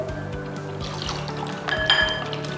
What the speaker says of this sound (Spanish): Ya con los huevos vamos a ir agregando la leche